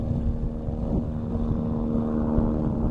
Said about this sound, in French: Oh, il y a un hélicoptère.